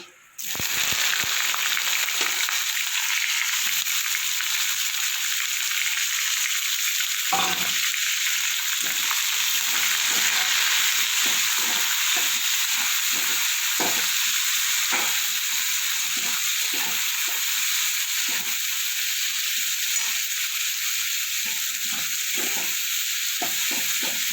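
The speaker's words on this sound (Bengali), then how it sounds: "পেঁয়াজটা আমার ভাজা ভাজা হয়ে গেছে।" Chopped onion frying in hot mustard oil, along with bay leaf and whole garam masala, gives a loud, continuous sizzle beginning abruptly, with repeated scraping stirs knocking through it at an irregular rhythm for over twenty seconds.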